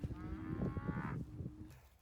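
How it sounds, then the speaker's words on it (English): Cattle moo nearby in an open Wyoming setting, one long, drawn-out low call rising over a low rumble of other animals and ambient noise, fairly faint overall. "I'm officially surrounded by mooing cows right now."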